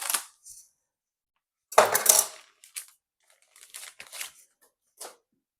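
Holster packaging being cut open: a few sharp plastic crinkles and snips with a louder rustling burst in the middle, then scattered light clicks and rustles, close and fairly quiet, with no talk.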